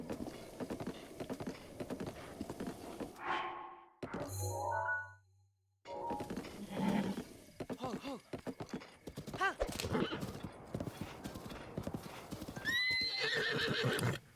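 A horse in Zelda: Breath of the Wild gallops with steady clip-clop hoofbeats and lets out loud whinnies, broken by brief gaps and thuds, with game effects and occasional talk over it.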